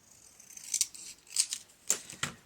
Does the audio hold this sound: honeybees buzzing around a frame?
no